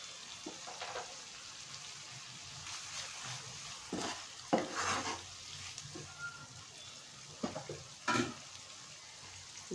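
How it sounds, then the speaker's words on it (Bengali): Onions sizzling in oil in a pan while salt, turmeric, chilli and cumin paste go in for a tilapia fish curry, a steady low fry punctuated by a few louder clattering stirs near the middle and end. "পেঁয়াজটা আমার ভাজা ভাজা হয়ে এসেছে।"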